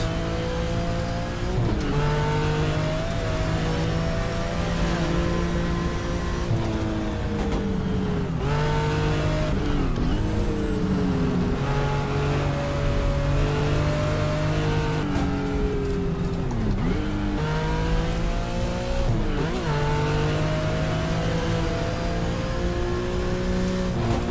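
Group C prototype race car in GTR2 at the Nürburgring, its engine roaring loud and continuous with repeated rising revs and sharp gear-change dips throughout, heard alone without talk.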